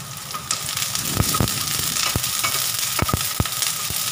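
Onion sautés in a hot pan, with a steady sizzle broken by repeated scraping and stirring clicks of a utensil against the pan, close and fairly loud.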